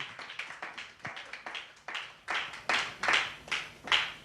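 Congregation in a church service clapping together in a steady rhythm to acclaim the Lord, roughly two claps per second, growing louder and fuller toward the end, with no talking.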